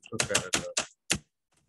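A few quick bursts of computer keyboard typing, sharp clustered key clatters in short runs, then a pause and a final faint tap, fairly close and clear with no voice over them.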